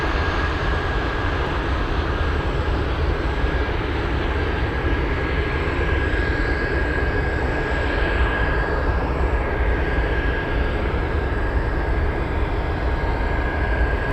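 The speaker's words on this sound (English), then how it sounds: "And there it goes, Cargolux on the move." A Cargolux Boeing 747 freighter on the move at Anchorage airport gives off a heavy, unbroken jet rumble with a steady high whine riding on top, loud and close for the full length.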